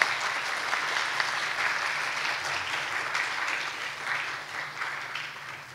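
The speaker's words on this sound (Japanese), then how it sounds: "改めて村越先生久保井様飯田様に盛大な拍手をお願いいたします。" Sustained applause from a conference audience at a Japanese national meeting on mountain rescue and accident prevention, a steady dense clatter of many hands filling the room for several seconds without pause.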